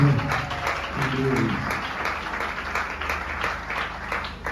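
Church congregation applauding and cheering at a worship service, steady crowd clapping over a murmur of voices and background music, moderately loud throughout.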